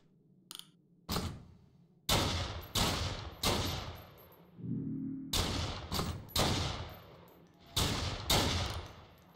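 Charge shots fired in the online game Fallen Earth, roughly nine loud, sharp blasts spaced about a second apart, each with a quick decaying tail, plus a faint low tone in a brief gap.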